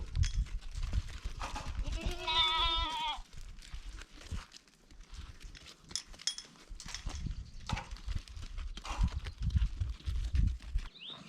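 Goats on a sheep farm in the Karoo, including a young orphan doe kid, give one clear wavering bleat among shuffling hooves and farmyard movement, with a person talking nearby.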